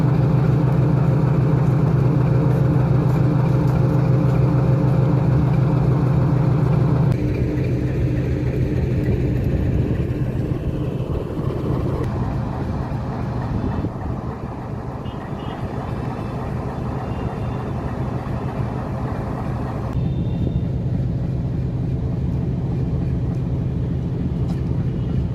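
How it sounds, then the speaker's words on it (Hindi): A YDM-4 metre-gauge diesel locomotive with a six-cylinder engine runs along the track, its steady, loud low engine drone dominating throughout with slight shifts in intensity. "अपने 6 सिलेंडर डीजल इंजन के साथ जब ये पटरियों पर चलता है तो उसकी आवाज़ से पूरा इलाका गूंज उठता है।"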